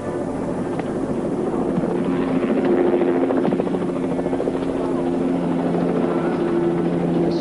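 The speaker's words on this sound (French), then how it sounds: "Si l'hélico tourne par ici, c'est qu'ils ont bien pris cette direction." A helicopter circles nearby, its rotor thumping in a rapid steady beat over a loud engine whine, with wind buffeting the microphone throughout.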